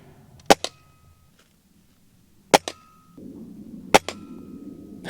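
A Gamo air rifle fires Redfire pellets in three sharp, close cracks a couple of seconds apart, each followed quickly by a faint metallic ring or impact, with quiet background between shots.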